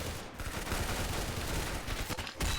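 Submachine gun fire in a video game, a dense continuous burst of rapid shots lasting a couple of seconds, loud and close with no talk over it.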